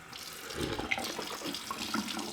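Water runs steadily from a new satin black bathroom faucet into the sink, a soft continuous trickle and splash heard close up and quiet, with no voices.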